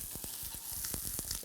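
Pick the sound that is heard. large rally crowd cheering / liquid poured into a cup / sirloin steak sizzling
sirloin steak sizzling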